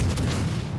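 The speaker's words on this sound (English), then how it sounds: "HE shots at this guy" Heavy naval gunfire from the Dimitri Donskoi's 7-inch guns launching HE shells in World of Warships Legends, a single deep booming roar that rumbles loudly and steadily through the brief moment.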